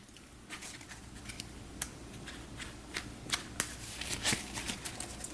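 Playing cards from the board game Cartographers riffle and snap as they are shuffled close up, a quick irregular patter of flicks and taps with no talking.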